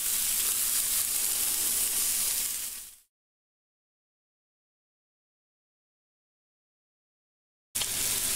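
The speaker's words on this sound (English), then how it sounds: "I can sear all the sides." Meat sears in a cast iron pan with a loud, steady sizzle for about three seconds, then cuts to complete silence before the sizzle returns abruptly near the end.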